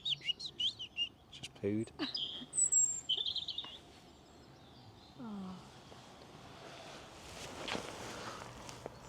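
Outdoor birdsong from mistle thrushes and a robin on a spring hike, bright chirps and short phrases in the first few seconds, then footsteps on a path and someone talking quietly as calls fade.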